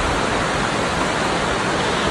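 A waterfall beside a hiking trail roars in a steady, dense hiss of falling water, loud and unbroken, with no other sounds over it.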